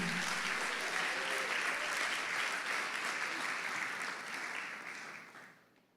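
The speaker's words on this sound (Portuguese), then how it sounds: "Aplauda Jesus, irmão." Sustained applause from a church congregation in São Gonçalo, dense and steady, fading out near the end.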